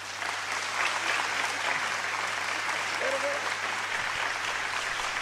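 Steady applause from a studio audience welcoming a guest singer on a Portuguese music and stories show, continuous clapping at moderate level from start to finish.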